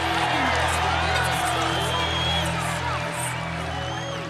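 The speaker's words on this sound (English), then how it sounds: "They're all cheering for me." Crowd cheering continuously in an anime duel arena, a dense wash of voices and whoops heard from a distance with no pauses.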